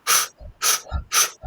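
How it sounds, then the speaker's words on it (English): A person nearby practises Wim Hof breathing: three sharp, hissing inhales, each followed by a softer, low, relaxed exhale, in a quick even rhythm. "Sharp inhale, relaxed exhale."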